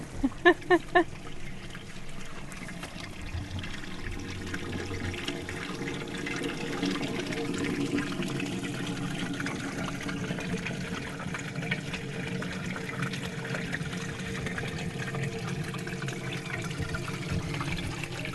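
Greywater from a laundry-to-landscape system gushes steadily from a pipe into a level trench, a continuous splashing flow that builds after a few faint clicks and keeps running at moderate volume.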